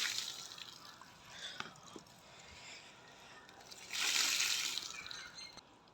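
Foam wash liquid is poured onto a bicycle, making soft, quiet splashing and gurgling in uneven spurts, with a fuller pour toward the end.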